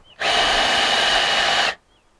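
A power drill runs at full speed in a single steady whir lasting about a second and a half, loud and close, starting and stopping abruptly, during panelling work on a hard-side camper conversion.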